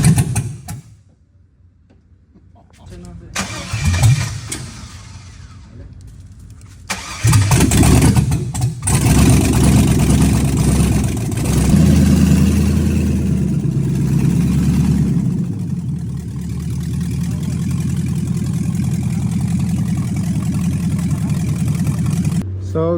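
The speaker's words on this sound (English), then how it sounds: "So turning on the truck was a success" A GMC truck engine cranks after a quiet pause, sputters, then catches and settles into a loud, steady rumbling idle close by with some revving, and voices come through faintly early on.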